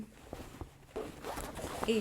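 Short zipper strokes from a gold embellished zipper pouch tote being handled up close, a few scratchy pulls under quiet indoor room tone with faint handling noise.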